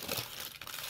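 Plastic wrap crinkling as a Capcom Nintendo GameCube game is unwrapped, a brief steady rustle and crackle at close range with no voices.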